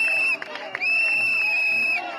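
A crowd whistles and boos at Spanish Prime Minister Pedro Sánchez, with a loud, sustained shrill whistle over rowdy crowd noise for about two seconds, briefly dipping near the middle.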